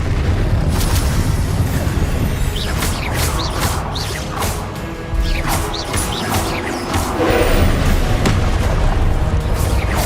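Booming blasts, crashes and whooshing spell effects from Confringo, the blasting spell in the video game Hogwarts Legacy, come loud and dense in repeated bursts over a busy, continuous combat soundscape.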